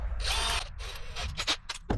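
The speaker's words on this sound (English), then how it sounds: "Drill your hole, drill a hole." Power drill boring a hole with a 7/32 bit, heard in several loud bursts of whirring that start and stop, each followed by a short pause.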